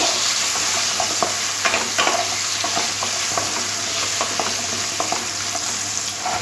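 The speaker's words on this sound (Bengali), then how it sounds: "আলুর মধ্যে সামান্য একটু হলুদ গুঁড়ো দিয়ে আলুগুলো একটু লাল লাল করে ভেজে নেব" Potato pieces dusted with turmeric fry in hot oil, a steady dense sizzle with occasional stirring scrapes and clicks, close and continuous, with no talk.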